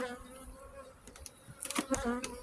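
Honey bees buzzing at an open hive, a close, fluctuating hum with individual bees passing near and swelling louder toward the end, without talking.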